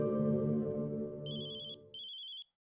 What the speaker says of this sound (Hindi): फोन किसका आ गया?